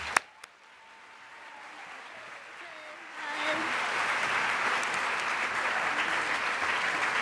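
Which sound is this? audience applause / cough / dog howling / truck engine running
audience applause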